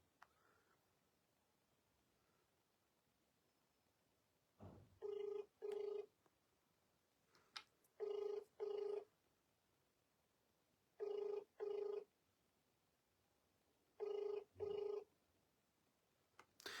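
Unanswered outgoing call to a suspected pharmacy scam number, with a ringback tone sounding in four paired bursts at regular intervals over quiet line hiss, no answer or voice.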